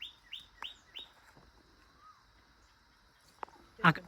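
A bird calls with a few quick, rising chirps in a row, then pauses before a couple of sharper, louder notes, heard at moderate distance outdoors.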